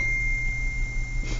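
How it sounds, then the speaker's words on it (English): Mobile phone beep: a sustained thin electronic tone held steadily over a low room hum, cutting off near the end. "Sorry, that was my phone."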